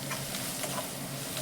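A spoon stirs red chili powder and spice mix in a hot pan for roasted eggplant bharta. The scraping is soft and repeated over a faint, steady sizzle.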